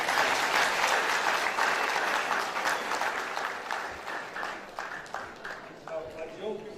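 Audience at a presidential town hall gives a round of applause, thick crowd clapping that gradually thins into scattered claps, with some voices underneath.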